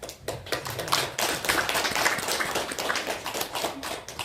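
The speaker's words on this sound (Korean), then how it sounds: "제가 박수를 한번 쳐놨습니다." Clapping at a Korean presidential candidates' policy debate: a fairly quiet, steady patter of many hands in a hall, continuing evenly without other sounds on top.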